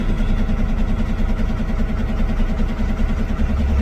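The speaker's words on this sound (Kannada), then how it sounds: "ಅಣ್ಣಯ್ಯ ನಾನು ಗಾಡಿ ಮೂವ್ ಮಾಡ್ತಾ ಇದ್ದೀನಿ" A truck engine runs steadily with a low, continuous rumble as the vehicle is moved along a crowded road; the drone stays close and loud throughout, with no talking.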